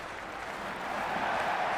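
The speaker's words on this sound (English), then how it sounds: "Will you listen to that crowd? They are loving this." Cricket stadium crowd in the video game Cricket 26, a steady wash of cheering and applause that swells slightly, with no clear voices on top.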